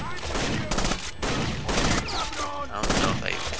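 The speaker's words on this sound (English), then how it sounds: "He was shooting at me." Rainbow Six: Vegas 2 gunfire in bursts of rapid automatic shots, loud and close, separated by short pauses, with a steady high tone running beneath.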